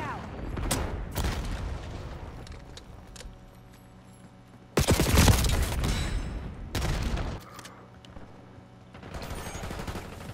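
A frag grenade blast amid automatic gunfire in Call of Duty, with scattered bursts of shots, then a loud heavy explosion with a second boom after it, and game voices talking in between.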